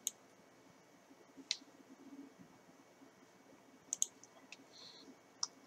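Computer mouse clicking on a paste menu in photo-editing software, a handful of sharp, isolated clicks spread across a quiet stretch with no talk.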